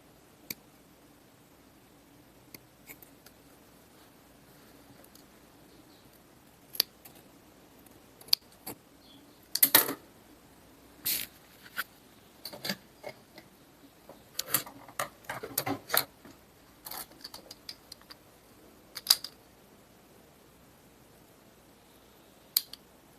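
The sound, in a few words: scissors cutting fabric near the seam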